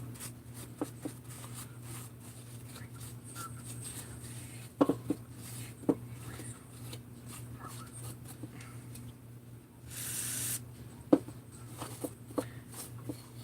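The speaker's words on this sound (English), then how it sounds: "Brake clean the surfaces here. So we degrease them." Brake cleaner spray degreasing the crankcase surfaces of a Husqvarna 288 chainsaw: one short, sharp hiss of aerosol stands out against a quiet workshop with a few light taps and clicks.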